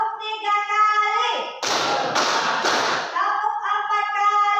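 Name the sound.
hands clapping three times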